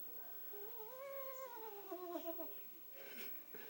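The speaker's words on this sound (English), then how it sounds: "every time she meows, she shakes." A nervous cat lets out a drawn-out, wavering meow that rises and falls over about two seconds, followed by softer breathy noises, close and fairly quiet with no speech.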